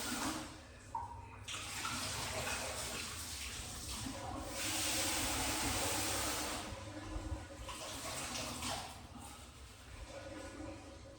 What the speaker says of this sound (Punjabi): ਫਿਰ ਆਪਾਂ ਇਹਦੇ ਵਿੱਚ ਦਾਲ ਧੋ ਕੇ ਪਾ ਦਾਂਗੇ